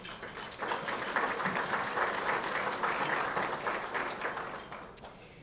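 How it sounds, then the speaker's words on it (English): An audience at a biotech organization's anniversary event breaks into a round of applause, a dense sustained clapping that swells after a soft start and fades toward the end. "Give yourselves a round of applause."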